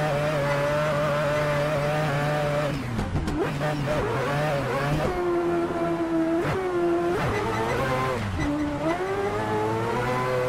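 Chevrolet Omega drift car fitted with a Formula 1 engine, revving hard and shifting with rising and falling high-pitched engine tones, close and loud throughout, with repeated throttle lifts and climbs.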